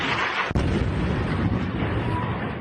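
Airstrikes hit Tyre in southern Lebanon: a sudden sharp blast cracks out, followed by a loud, continuous rumbling roar of further explosions that fills the whole stretch.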